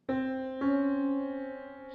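Two sustained piano notes, one struck right after the other a half step apart, ringing on together with no talking.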